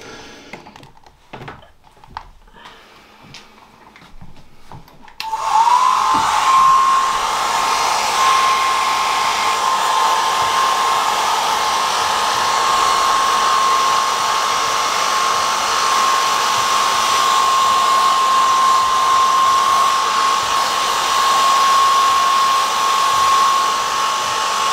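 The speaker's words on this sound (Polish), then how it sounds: "z suszarką do włosów." A hair dryer blasts hot air onto a freshly washed, hand-wrung fur pelt, switching on after a few seconds of quiet handling noises, then holding a loud, steady whine and rush of air up close.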